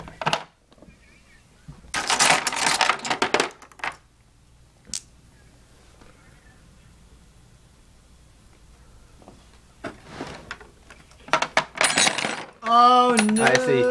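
Metal wrenches from a Craftsman 154-piece tool set fall and clatter, with sharp ringing bursts of clinking metal in several separate spills across quieter stretches, and the last spill rattles against a voice.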